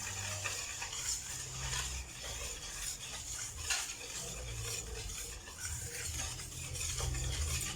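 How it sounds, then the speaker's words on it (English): Flour and baking powder whisked together in a bowl, a steady brisk stirring and scraping sound that runs continuously, close and fairly quiet, with light rubbing of the whisk against the bowl. "First we're going to mix the baking powder with the flour, and let's just give this a whisk so it's all nicely mixed up."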